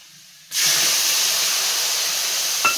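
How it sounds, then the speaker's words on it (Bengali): Spice paste mixed with water hits hot browned onions in a pan and sets off a sudden loud sizzling hiss that holds steady, with a small clink near the end. "দিয়ে দিলাম জলে গুলে রাখা মশলাটা।"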